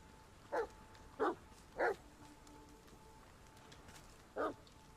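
Dog barking in The Medium video game: four short, fairly loud barks, three in quick succession and one after a pause, over a low steady ambient hum.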